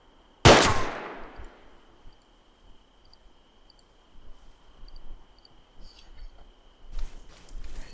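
A single loud, close 5.56 rifle shot cracks out in ArmA 3 and rings into a long fading tail, followed by faint shuffling and a softer thud near the end.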